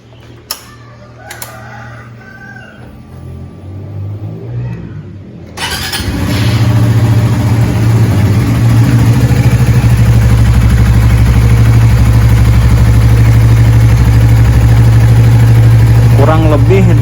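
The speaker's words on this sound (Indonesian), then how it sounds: "teman-teman tinggal panasin mesinnya biar olinya bersirkulasi" A Suzuki GSX R150 motorcycle engine, freshly refilled with new oil, starts after a few seconds of clicks and quiet fiddling, then settles into a loud, steady warm-up idle with a low throbbing drone.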